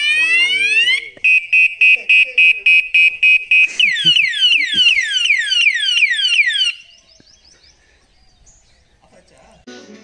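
A loud alarm system going off near a motorbike rider on a ride through the forest to Masinagudi, cycling through rapid warbling sweeps, pulsed beeps and falling whoops before cutting to a quieter background.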